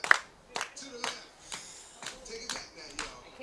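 Scattered hand claps from a small ballpark crowd at a minor-league baseball game between the San Rafael Pacifics and Pittsburg Diamonds, coming in loose bursts about every half second, with faint voices underneath.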